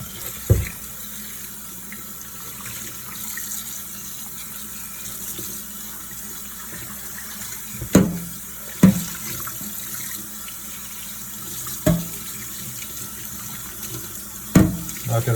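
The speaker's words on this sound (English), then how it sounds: "let's give this thing a rinse" Tap water runs steadily into a sink while a cast iron muffin pan is rinsed, a constant hiss with several sharp knocks and clunks as the metal pan is handled under the stream.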